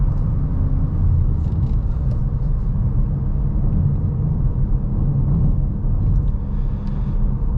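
Cabin of a 2024 VW Golf R manual driven in race mode through a corner: a continuous low engine rumble and tire roar, steady and fairly loud, with faint ticks and rattles over it.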